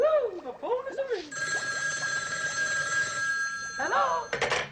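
A telephone bell rings in a long, loud, continuous trill, with a voice talking animatedly just before and after it.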